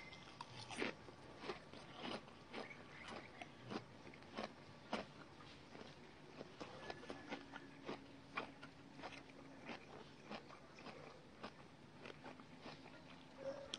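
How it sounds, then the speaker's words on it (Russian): Someone chews close to the microphone in a quiet room, giving a long run of soft, irregular wet clicks and crunches with a faint low hum behind them. "Все жую и жую."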